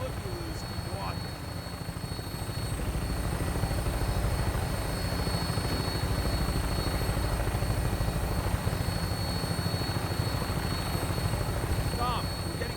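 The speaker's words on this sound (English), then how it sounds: "When we land, Tinker's gonna keep the vertibird spooled for an immediate takeoff" The Vertibird aircraft engine from Fallout 4 runs steadily, a loud continuous rotor thrum and whine with a rhythmic chopping pulse that holds throughout, while voices talk faintly over it.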